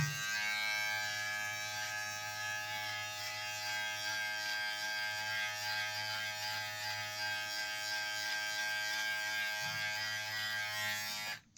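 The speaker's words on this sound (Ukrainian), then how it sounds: "На цій стороні я зараз пройдуся висувним тримером." A VGR V-357 pop-up trimmer running at 8000 rpm cuts through stubble with a steady, close electric buzz that holds for about eleven seconds before cutting off abruptly.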